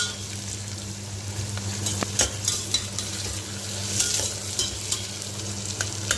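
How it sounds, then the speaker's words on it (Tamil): Onions sauté in a pan for Tamil-style tomato rice, a steady close sizzle with a low hum beneath and occasional scraping clinks of a spoon stirring, no speech. "வெங்காயம் வதங்கட்டும்."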